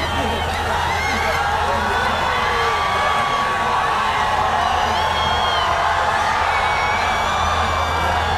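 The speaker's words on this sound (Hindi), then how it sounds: "आपकी भरपूर तालियों में दावत दूंगा" Large crowd at a political rally for former prime minister Imran Khan, a dense continuous roar of cheering, whoops and shouting with likely applause, loud and sustained throughout with no pause.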